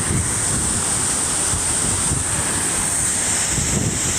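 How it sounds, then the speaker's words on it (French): The Cascade de Glandieu waterfall in Isère roaring in a continuous broadband rush, loud and close, with no voices. "Là, nous sommes à la cascade de Glandieu dans l'Isère."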